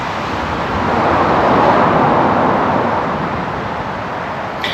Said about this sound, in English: this road that runs alongside, you can definitely still hear it